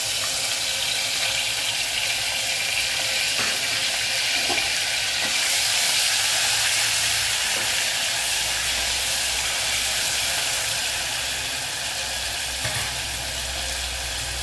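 Garlic paste hits hot oil with cumin seeds for a vegetable pulao, giving a steady, dense, close sizzle and crackle that holds loud and unbroken throughout, with faint stirring scrapes and no voices.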